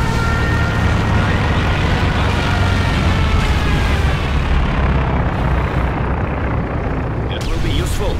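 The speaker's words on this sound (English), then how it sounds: "Enemy aircraft!" Enemy aircraft roar overhead in the World War II strategy game Company of Heroes 2, with loud, rumbling engine drone mixed with explosive booms and battle noise. Voices call out over it.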